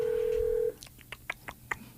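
A steady telephone intercom dial tone cuts off, followed by a short run of separate keypad dialing beeps, close and clear, with no one speaking.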